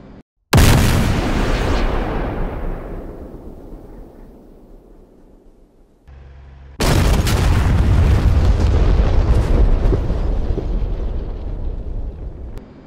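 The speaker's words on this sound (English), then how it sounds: "We might actually lose visual before the bombs hit." Guided JDAM bombs from an F/A-18 Hornet strike their target in the DCS flight simulator, two loud booming explosions, each with a long rumbling decay, the second heavier and sustained.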